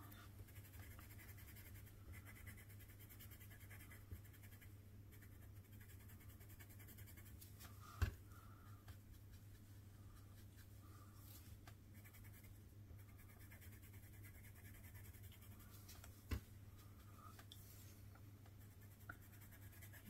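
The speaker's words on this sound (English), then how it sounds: "I think you hear it as I'm putting it on the paper." A hard Derwent pastel scratches on paper in a quiet room, a faint continuous scraping with a steady low hum beneath and a couple of sharp clicks.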